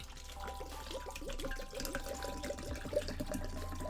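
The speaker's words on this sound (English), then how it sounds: "I'm pouring water into a cup." Water pours steadily into a cup with a continuous splashing trickle, set against a busy, noisy background.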